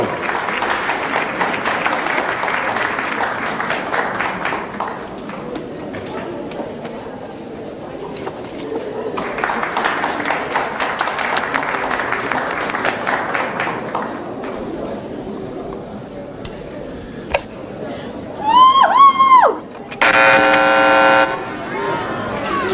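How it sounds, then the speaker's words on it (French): A studio audience on a French television show applauds to welcome a musician from Annecy: several bursts of clapping rise and fade over about fifteen seconds, then give way to a few sharp honking tones and talk near the end. "Applaudissons-le bien fort."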